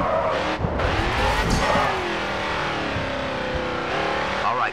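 A race car at full throttle in the video game Grid 2 gives a loud, continuous engine roar that climbs and falls through gear changes, with tire squeal and skidding mixed in.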